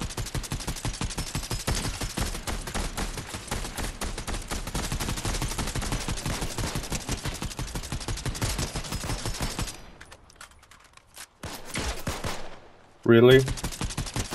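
Dense, rapid bursts of automatic gunfire from a Fortnite duos battle royale match, loud and sustained for most of the stretch, then a brief lull and a final sharp volley, with a short spoken remark in between.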